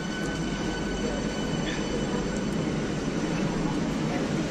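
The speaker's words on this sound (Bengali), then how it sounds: "ট্রেন ঢুকছে 5 নম্বর প্ল্যাটফর্মে" EMU AC local train from Ranaghat to Sealdah rolling into platform 5, a steady low rumble and hum of the approaching train with faint high whines, fairly distant and even throughout.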